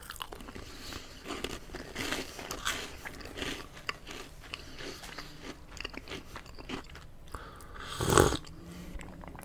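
A crunchy chocolate cookie is bitten close up, with one loud crisp crunch near the end after soft chewing and mouth sounds, no talking.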